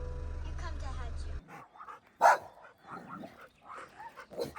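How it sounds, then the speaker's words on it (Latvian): A pack of dogs barks outdoors. After a steady engine hum cuts out, there is one loud sharp bark among scattered fainter yips and barks at close to middle distance. "Tā ir tāda banda ar suņiem, kuri negribēs šķērsot šo teritoriju."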